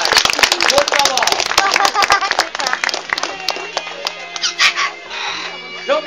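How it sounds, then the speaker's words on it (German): Clapping from an audience at a live Advent calendar show, a dense burst of many hands with cheering voices, tapering into scattered claps near the end. "Nochmal einen kräftigen Applaus hinterher"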